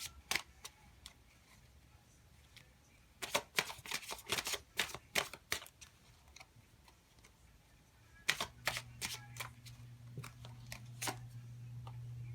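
Rebel Oracle tarot cards shuffled close by in quick riffling bursts and scattered snaps, quiet between bursts, with a low steady hum joining toward the end.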